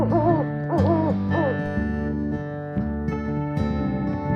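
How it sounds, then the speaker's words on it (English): An owl hoots in a few wavering calls near the start, then fainter ones later, over a sustained tonal musical backdrop. "Owl."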